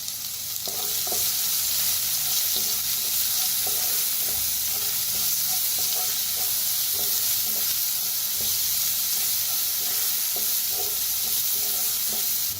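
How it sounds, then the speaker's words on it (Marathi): Curry leaves and coriander roast with a ground spice paste in a pan, giving a loud, continuous sizzle. Regular scraping stir strokes run through it from start to end, with no voices. "आता भाजून घेऊया. कढीपत्ता आणि कोथिंबीर टाकलेला आहे."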